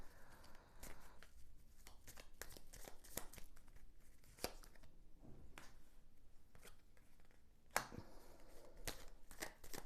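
Tarot cards are shuffled and drawn in quiet, repeated riffling and slapping bursts, with soft snaps between handfuls, close up and faint throughout.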